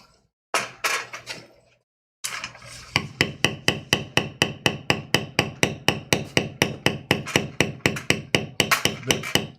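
A leather beveler is struck with a mallet while tooling Sheridan-style leather, first a short burst, a pause, then a long run of steady, evenly spaced sharp taps, close and crisp.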